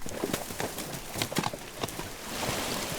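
Outfitter horses walking on a trail in Idaho, hooves clip-clopping in an irregular rhythm, close and fairly loud, with no talking.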